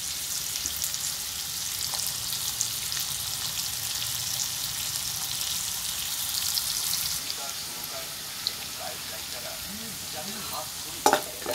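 Chopped onions sizzle and crackle steadily in a hot pan for an egg do-pyaza with sour yogurt, with occasional scrapes and clinks of stirring toward the end and no talk.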